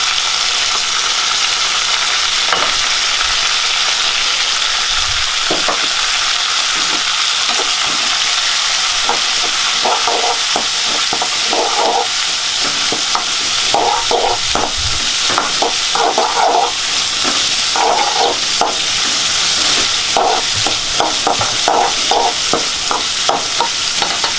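Onions fry and sizzle steadily in a pan for vallarai chutney, stirred with repeated scraping bursts over a constant hiss, close and fairly loud, no talking.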